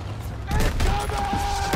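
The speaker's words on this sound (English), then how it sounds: "Taking fire from Pack 38!" Battle gunfire from a Call of Duty WWII firefight, dense bursts and booms rolling continuously under shouted voices, with a tonal hum and radio-like chatter layered through the loud combat mix.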